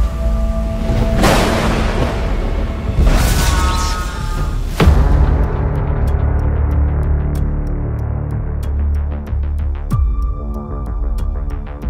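A dramatic thunder boom sound effect for a clash between lightning-wielding heroes: several deep, loud booms in the first five seconds, then a droning, throbbing tone with sharp ticking hits and another boom near the end.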